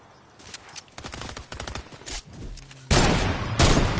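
Bursts of automatic gunfire from a Fortnite-style shooter game crackle in quick volleys, growing louder toward the end into a dense, sustained barrage with little talk.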